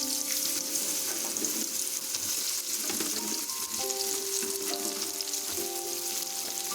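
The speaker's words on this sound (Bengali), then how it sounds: "এখন আমরা এই গরম তেলেই কেটে রাখা পটলগুলোকে ভাজা করে নেব।" Sliced pointed gourd sizzles steadily in hot oil in a pan, a continuous close frying crackle with occasional stirring and no talk.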